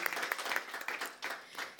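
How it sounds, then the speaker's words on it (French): Small audience clapping in a live church-style gathering, brief scattered claps at moderate distance, fairly faint and irregular, with no talk over it. "On applaudit encore pour la sœur Opuna"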